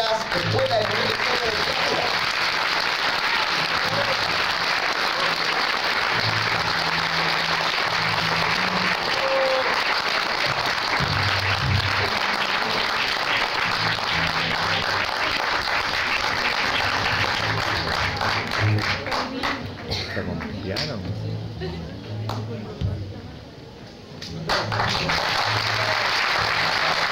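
Sustained applause from an audience for a school woodwind ensemble at a cueca performance, steady and full, briefly thinning near the end before swelling again.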